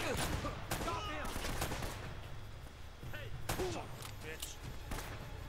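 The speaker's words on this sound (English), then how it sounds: "Hey, is there someone shooting deep behind?" Sporadic gunfire from the video game Uncharted: Drake's Fortune, sharp cracks popping at irregular intervals over a dense, busy game soundscape, with some talk mixed in.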